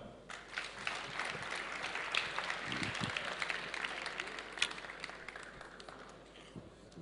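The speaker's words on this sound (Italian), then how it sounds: "Grazie, applauso" A seated audience claps steadily at an Italian talk or presentation event, a dense, even patter of many hands that holds at moderate loudness for the full stretch without fading.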